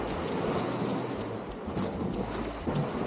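Strong ocean surf rolls in on a rainy Cebu coast, a steady loud wash of waves with heavy wind buffeting the microphone throughout and no voices.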